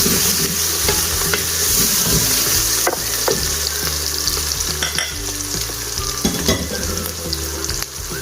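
Tomatoes and green chillies frying in a pan for dhaba-style chana dal, a loud, constant sizzle with intermittent stirring scrapes and light clatter, no talking.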